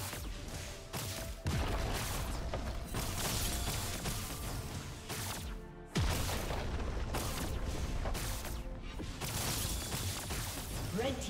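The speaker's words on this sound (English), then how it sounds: "Team's turret has been destroyed." A turret being destroyed in the League of Legends video game, sounding as loud booming crashes and impacts through a dense, steady stream of game noise, with sharp onsets near 1.5 and 6 seconds.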